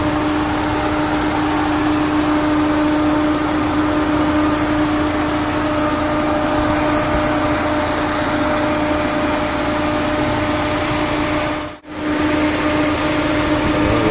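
A Peugeot 206 with a manual gearbox idles steadily with its engine running, a loud, even hum heard up close that dips briefly for a moment near the end.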